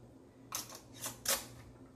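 A lid is set onto a glass jar of green tomato salsa verde, giving three quick, light clinks and taps close by against a quiet background.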